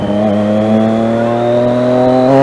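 A Triumph Daytona 675 inline three-cylinder engine revs loud and close, its pitch climbing steadily in one sustained pull of rising throttle, with no talking.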